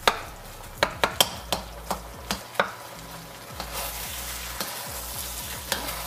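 Shrimp fried rice frying in a pan, a constant sizzle under a quick run of sharp clinks and scrapes from a utensil stirring, which then settle into steady frying.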